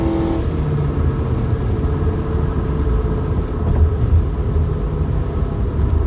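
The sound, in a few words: Nissan Altima engine at full throttle climbing a hill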